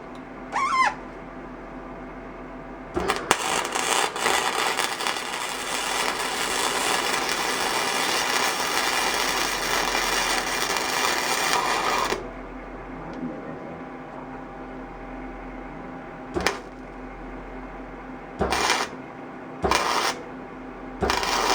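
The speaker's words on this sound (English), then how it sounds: "So now I'll just put some new welds." Welding on a metal gaming chair frame: a long, steady crackling buzz of arc welding lasts about nine seconds, followed by quieter pauses and several short bursts of tack welds.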